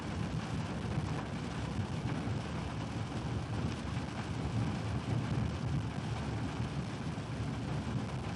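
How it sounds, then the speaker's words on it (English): Rain pours steadily during a local thunderstorm in Texas, a dense broadband roar with a low rumbling undertone, continuous and loud throughout with no voices. "It's just rain."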